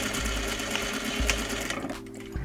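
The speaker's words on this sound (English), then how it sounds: "Sew your dart in place along the top edge by sewing a straight stitch" A sewing machine runs a steady straight stitch along the top edge of a trouser dart, a continuous close-up whir that stops abruptly near the end.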